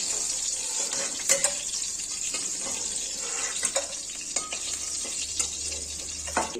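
Pieces of katla fish fry in a pan with a continuous close sizzle, broken by occasional sharp clinks and scrapes of a utensil moving the pieces, no talking heard.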